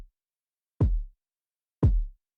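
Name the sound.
kick drum sample included in Serum synthesizer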